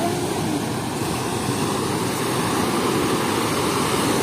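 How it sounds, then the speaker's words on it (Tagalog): Ocean surf at the beach in Liwliwa, Zambales, a loud continuous wash of breaking waves filling the whole clip with no voices heard. "May na yung alon."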